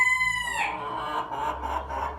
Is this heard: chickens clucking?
yes